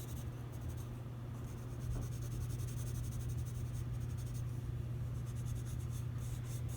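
Colored pencil layering green over paper with light pressure, a steady dry scratchy rasp of repeated same-direction strokes, close and continuous with a low hum underneath.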